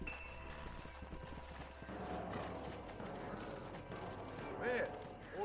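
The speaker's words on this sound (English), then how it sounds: "I still don't know how you stop a horse" Horse hooves clip-clop in the Red Dead Redemption video game, a steady patter of hoofbeats under game ambience and other effects, with a voice talking over parts of it.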